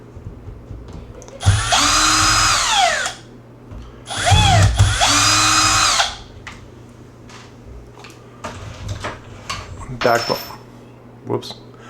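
A power drill whirs in two bursts of about a second and a half each, pitch sweeping as it backs screws out of a Traxxas Slash 4x4 RC truck body, with lighter clicks and handling noises between and after.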